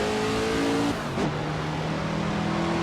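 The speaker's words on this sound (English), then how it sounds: "I swapped out the sound thing in this car for another car. Another GT40 actually, different mod, but sounds a lot better, as you can hear." Ford GT40 engine in a Le Mans endurance racing video game with a modded engine sound: a loud, close engine note that drops sharply on a gear change and then climbs steadily again as the car accelerates.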